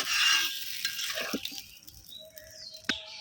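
Duck eggs stirred and sautéed in a thick spice paste in a pan, with faint sizzling, a few soft scrapes and light clinks of a utensil against the pot, fairly quiet and close.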